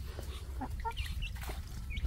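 Chickens and a rooster cluck and chatter in a farmyard, giving brief, fairly close calls over a steady low background rumble.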